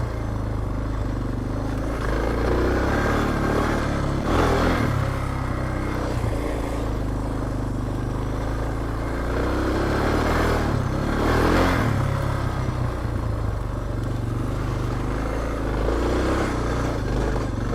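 Suzuki DR650 dual-sport motorcycle ridden off-road on dirt, its single-cylinder engine droning steadily up close with throttle swells and revving surges around mid-ride, plus wind and rattling clatter, no voices.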